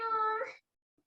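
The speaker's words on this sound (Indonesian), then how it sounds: "meong-meong ini adalah suara kucing." A recorded house cat meows once, a short harmonic call lasting about half a second and played back at close range, then the sound cuts to silence.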